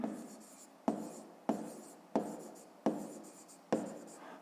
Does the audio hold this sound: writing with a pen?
yes